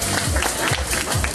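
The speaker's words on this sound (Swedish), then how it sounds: "Ge en applåd till Sabina." Audience applause at a Miss Universe beauty pageant in Trelleborg, a dense, steady clapping from the crowd that fills the whole short moment, loud and continuous.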